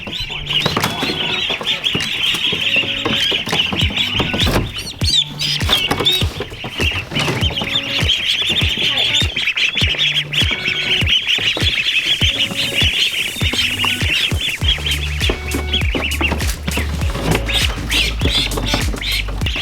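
A crowd of ducklings in a crate peeps steadily and shrilly, a dense overlapping chorus close by, with occasional knocks and shuffling underneath.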